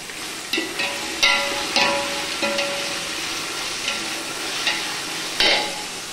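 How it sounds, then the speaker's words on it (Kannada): Mint, coriander and curry leaves frying in oil for chicken biryani crackle and hiss loudly up close, with several bursts of spoon stirring and scraping against the pot over a steady sizzle. "ಇದ್ರ ಜೊತೆಗೆ ಕರಿವೇ ಸೊಪ್ಪು ಕೂಡ ಹಾಕ್ಬಿಡ್ತೀನಿ ಬಿಕಾಸ್ ಇದು ಚೆನ್ನಾಗಿ ಕೂಡ ಫ್ರೈ ಆಗುತ್ತೆ"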